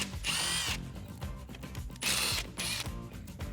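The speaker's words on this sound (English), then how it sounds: "So I'm gonna take a 10mm socket. We can remove the hardware that's holding on our mirror." A power socket tool or impact driver buzzes in two loud bursts, with ratcheting clicks between them, while removing the 10mm mounting hardware from a RAM 1500 mirror up close.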